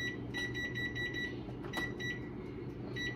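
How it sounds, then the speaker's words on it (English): Oven timer being set on a kitchen oven, giving a series of short electronic beeps spaced through the clip over steady background hum. "So I'm gonna set my timer for 10 minutes first."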